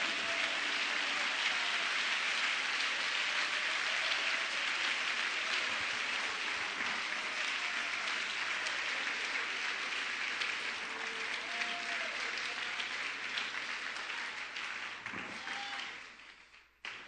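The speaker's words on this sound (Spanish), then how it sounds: "un aplauso de gozo en esta mañana" A church congregation applauds in a long, dense wash of clapping that holds steady for many seconds, with faint voices underneath, before it tapers off.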